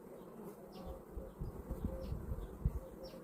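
Honey bees from a strong colony yielding about 30 kg of honey hum at the open hive, a steady low buzz with individual insects passing close by and a few louder swells, with no talking.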